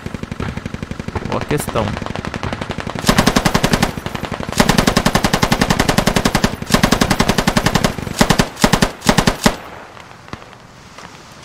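Rapid bursts of automatic gunfire crackle from a squad shooter video game, dense and loud in several long volleys that break into a few single shots near the end, with a brief spoken remark mixed in.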